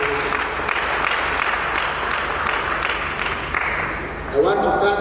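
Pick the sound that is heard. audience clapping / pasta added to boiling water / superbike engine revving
audience clapping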